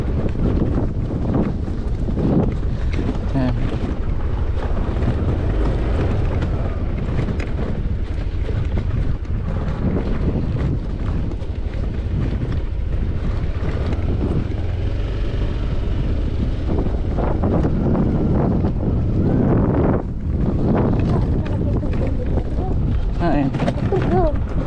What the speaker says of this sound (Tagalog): Pero yung hangin malamig. Parang bagyo